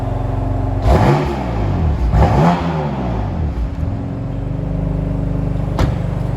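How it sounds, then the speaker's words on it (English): A BMW M4 Convertible in Yas Marina Blue is revved twice in quick succession, loud and close, each rev climbing and falling back before the engine settles into a steady idle rumble with a brief blip near the end. "we'll just quickly give you a sound demonstration of the car"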